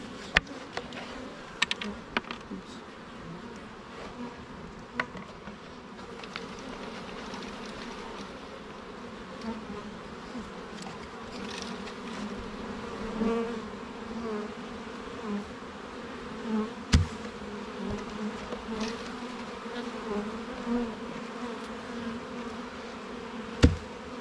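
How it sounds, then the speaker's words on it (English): Honey bees in a nuc hive box swarm with a dense, steady humming drone close by, sprinkled with sharp knocks and bumps from handling the box. "Got a box here full of bees I need to probably dump."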